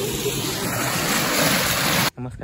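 River water rushing high and swollen after two days of heavy rain in Konkan, a dense steady roar close by that breaks off abruptly near the end.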